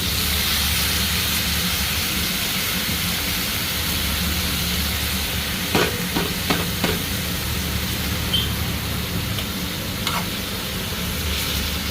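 Greens and eggplant frying in hot oil, a steady broadband sizzle throughout with a few brief utensil clicks and scrapes partway through, no talking.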